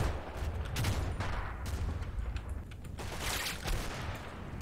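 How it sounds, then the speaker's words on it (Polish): Gunfire on the flank in the World War II strategy game Combat Mission Fortress Italy, with rapid bursts of rifle and machine-gun shots crackling at a moderate distance over a rumbling battlefield background, no voices. "Na prawej flance również padły pierwsze strzały."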